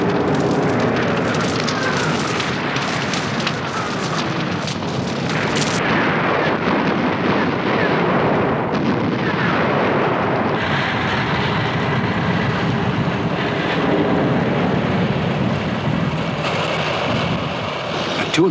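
A WWII artillery strike on German troops in their concentration areas before dawn, heard as a continuous heavy roar of explosions and rumbling fire, loud and sustained throughout with no distinct individual blasts.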